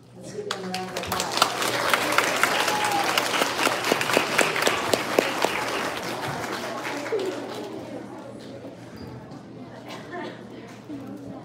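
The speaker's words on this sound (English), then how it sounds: "Let's give them a round of applause." Audience at an elementary school spelling bee for grades one to four applauds the young spellers after round one, clapping building quickly, staying strong for several seconds, then thinning out under faint room noise.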